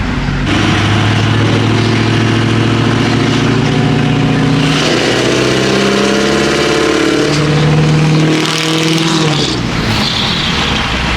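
A Ford 6.0 Powerstroke diesel pickup engine runs loud and close, droning steadily with shifting pitch as it revs and settles, continuous throughout with no talk.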